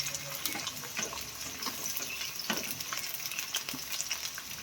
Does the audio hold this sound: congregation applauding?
no